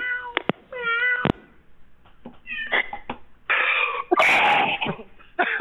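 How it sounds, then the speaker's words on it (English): A cat meows repeatedly in short, close, insistent cries, mixed with raspy wheezing and coughing sounds between them. "You hear the cat?"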